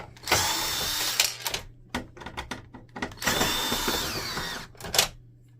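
A power screwdriver backs screws out of an Epson WorkForce Pro WF-3720 printer in two loud, close whirring bursts, with clicks and handling noise between them.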